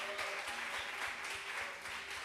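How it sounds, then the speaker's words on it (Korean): A congregation at a Friday church worship service claps in applause, a dense steady patter that holds evenly for a couple of seconds with no voices over it. "박수 한번 쳐주시길 바랍니다."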